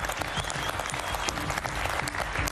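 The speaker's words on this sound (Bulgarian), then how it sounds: "И ви ръкопляскаме." An audience claps steadily at the VIP Brother 2015 Bulgarian reality show, a dense, even wash of applause that continues without a break.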